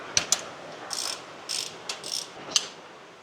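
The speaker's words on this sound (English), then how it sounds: "now I'm just going to screw out the pin on this side" Ratchet turning out a pivot pin, a handful of crisp, close clicking bursts spaced irregularly over about three seconds against a quiet background.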